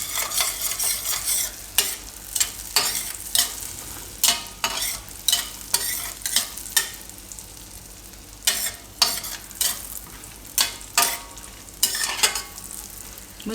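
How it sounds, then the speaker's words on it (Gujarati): Cumin seeds roasting in butter and spices in a pan give a steady sizzle, broken by repeated scraping strokes of a spoon stirring the pan, loud and close. "થોડીક વાર મસાલામાં શેકાવા દેવું, જીરું થોડુંક લાલ થાય એવું"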